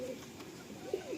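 Pigeons of the Kalasabuj breed coo softly in short, low murmuring phrases, with one slightly stronger coo near the end, quiet and close amid faint background noise.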